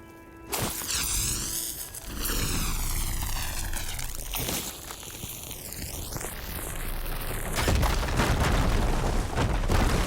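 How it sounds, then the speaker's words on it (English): A fire gleam crystal blasts apart in Horizon Forbidden West, bursting into a loud, rumbling boom with sweeping whooshes and crackling debris that continues as a heavy roar to the end, with no voice over it. "Should be able to blow up that fire gleam."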